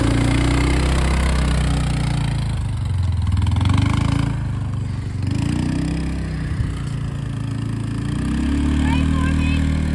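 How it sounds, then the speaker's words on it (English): A steady low rumble of a cheap ATV engine with problems idles throughout, with faint voices talking underneath at moments. "It's idling pretty good now, huh?"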